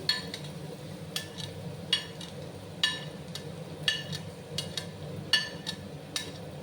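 A spoon stirs potatoes, carrots and chopped onion in a pan over a low gas flame. Soft scrapes and clinks come at irregular intervals over a quiet, steady sizzle, close by and with no talking.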